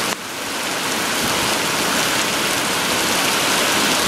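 Rain falls outdoors in Tucson, a loud, dense, steady hiss close to the microphone that swells in the first moment and then holds evenly, with no voices.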